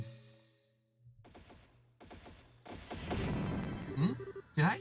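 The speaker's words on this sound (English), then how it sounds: "Wait a minute, is that gunfire?" Gunfire from the video game Trails in the Sky: after a soft, sustained musical tone, several volleys of sharp shots crack out in rapid bursts, growing louder and denser toward the end.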